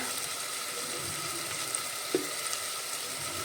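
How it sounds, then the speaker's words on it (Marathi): Onion and tomato softening in a pan while a rice dish with fresh green peas is being made, giving a steady, even sizzle with one brief clink or stir partway through and no talking. "मऊ हो होईपर्यंत भाजून घेऊया कांदा आणि टोमॅटो"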